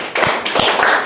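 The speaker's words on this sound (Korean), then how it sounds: "이제 박수 치는 거예요" A short burst of hand clapping from a small group at a church gathering, a few scattered sharp claps close by and fairly loud over about a second, with no talking.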